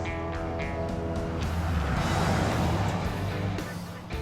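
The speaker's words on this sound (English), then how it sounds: "let's take it for a test drive and see how it sounds" Restored car on a test drive, its engine droning steadily and swelling slightly as it accelerates, a continuous close rumble with road noise and no clear speech.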